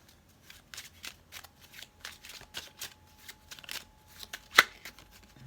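Tarot cards being shuffled by hand, a run of soft papery riffles and flicks close up, with one sharper snap near the end and no speech.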